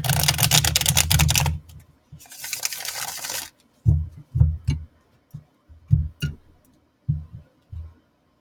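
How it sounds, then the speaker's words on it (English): Tarot cards being shuffled, two riffling bursts of dense flicking followed by scattered soft taps and clicks as the deck is squared, close and fairly quiet with no talking. "Just a couple quick shuffles here."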